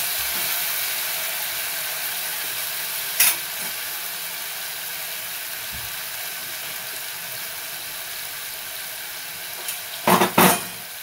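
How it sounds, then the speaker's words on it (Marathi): Drumstick pods fry in masala in a pan, making a steady, even sizzle. Two or three brief scraping knocks of stirring break through, one early and a cluster near the end. "अगोदर शेंगा टाकून घेऊन हलवून घ्यायचं."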